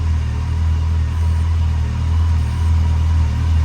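A 2006 Yamaha FJR1300A motorcycle idles after its idle speed was set too high, a steady low engine rumble that holds evenly and close, with no voices.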